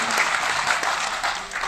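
A Kavi Sammelan audience claps steadily for a birthday greeting, a dense, even wash of applause that carries through the whole moment with no voices above it.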